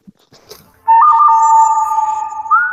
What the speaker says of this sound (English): And you have Deb with her ringtones